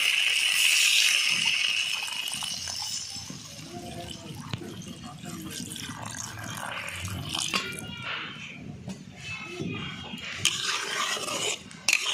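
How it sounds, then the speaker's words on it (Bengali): Water pours into a cooking pot for a curry of small beel khalishe fish and yam, a rushing splash at first that settles into softer sloshing and clinks of the pan, with a voice talking alongside. "এবারে জল দিয়ে দিচ্ছি।"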